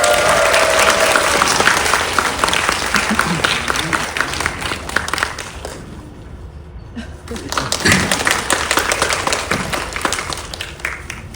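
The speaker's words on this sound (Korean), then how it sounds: "큰 박수 부탁드리겠습니다." A cinema audience at a film talk event welcomes the director and an actor onstage with loud, close applause. It dips briefly midway, then swells again with crisp individual claps and some crowd noise.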